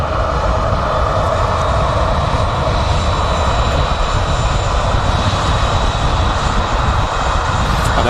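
EasyJet airliner engines at Manchester Airport, a loud, steady jet roar with a thin high whine riding on top, sustained and unbroken from start to finish.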